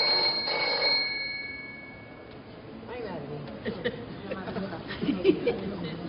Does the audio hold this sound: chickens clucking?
no